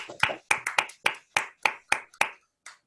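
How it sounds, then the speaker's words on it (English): A small, sparse applause after an online mathematics talk: about ten separate claps from a few hands, spaced irregularly over a few seconds, close and fairly crisp. "give Brendan a round of applause for a very nice talk"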